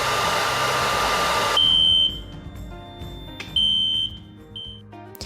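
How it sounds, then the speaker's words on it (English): A loud hissing rush gives way to a piercing electronic building fire alarm tone, triggered from the alarm panel, sounding in repeated bursts with pauses between. "Put the building fire alarm panel into alarm, and that starts the building evacuation process."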